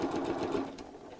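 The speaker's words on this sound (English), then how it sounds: "then carry on sewing around the second side until I meet that same point again." A sewing machine runs steadily while stitching around the side of a purse being fitted to a frame, a close, continuous mechanical whir with no pauses.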